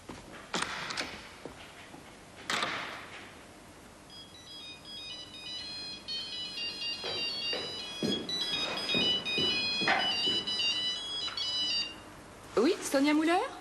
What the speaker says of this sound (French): Appelez Monsieur Schulten sur son portable et passez-le moi.